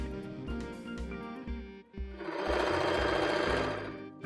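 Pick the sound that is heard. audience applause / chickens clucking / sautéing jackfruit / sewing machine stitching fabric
sewing machine stitching fabric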